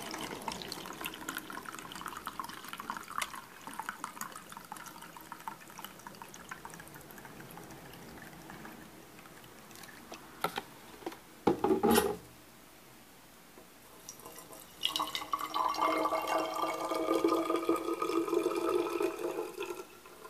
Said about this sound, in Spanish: A continuación, vamos a agregar una taza de vinagre